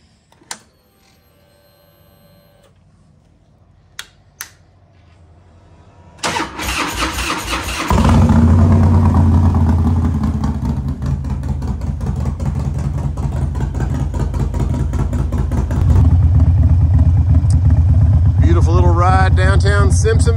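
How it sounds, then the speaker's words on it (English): A motorcycle engine cranks and fires after a few faint clicks, settles into a loud idle, then revs and rides off with a steady close drone; wind noise and brief talk come near the end. "let's go fire that bike up"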